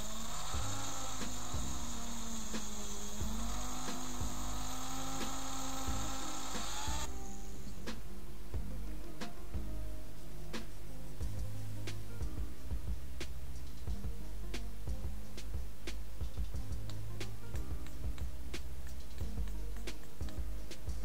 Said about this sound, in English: I'm going to polish the casting with my wire wheel